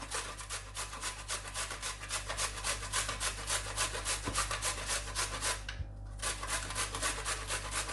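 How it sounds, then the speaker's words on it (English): Carrots rubbed against the big holes of a grater in quick, rhythmic rasping strokes, close and steady, with a brief pause near the end before the scraping resumes. "And all you're going to do is just grate it like this."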